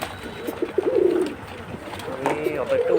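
Pigeons kept in a coastal area coo nearby in a few deep, throaty bursts, with light background noise between the calls.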